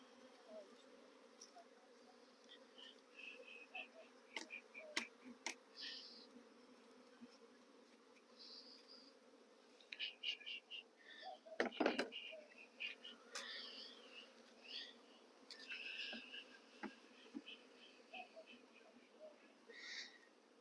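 Honey bees buzz around a swarm bucket at a hive entrance, a steady faint drone with individual insects zipping close by now and then, no voices.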